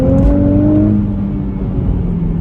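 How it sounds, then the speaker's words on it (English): A 2022 Nissan Z engine revving with its exhaust note, a loud, steady close-up drone holding a sustained pitch that eases slightly, with no talking. "You can hear the exhaust."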